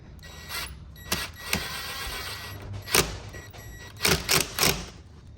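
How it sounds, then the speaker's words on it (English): A screw is driven into a custom mud flap on a big truck, giving several sharp mechanical bursts of a power driver with short ratcheting whirs and pauses between them, close and fairly loud. "Just hold this here, like that, and then just send a screw up into it."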